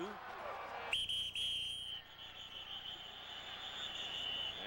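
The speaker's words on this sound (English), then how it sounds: "And a whistle." A referee's whistle at a 1995 Raiders–Eagles American football game, one sharp, shrill blast lasting about a second under crowd noise and ongoing broadcast commentary.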